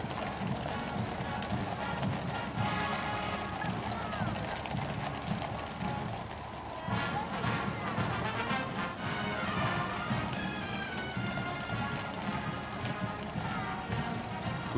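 Horses clip-clopping in the Trooping the Colour procession, a steady stream of hooves on the road under a commentator's voice and crowd ambience, with band music faintly in the background.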